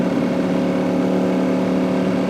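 A superbike engine running steady and close, a dense mid-pitched buzzing drone held without a break.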